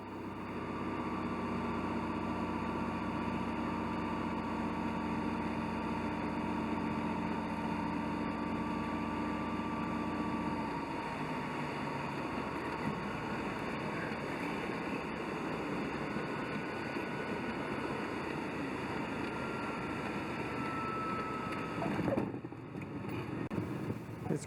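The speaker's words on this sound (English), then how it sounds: "Here we're taxiing to Elliot's house." A small airplane taxis on a private airstrip, its engine droning steadily at moderate volume with a faint hum and a brief drop near the end, without any talk.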